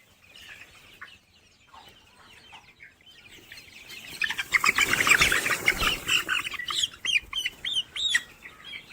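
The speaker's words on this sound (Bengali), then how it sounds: "আমরা এই যে একটা মুরগি ধরছি" Chickens on a poultry farm burst into loud, agitated clucking and squawking as one bird is grabbed for weighing. The calls are sparse and faint at first, then swell into a dense, close flurry for the last few seconds.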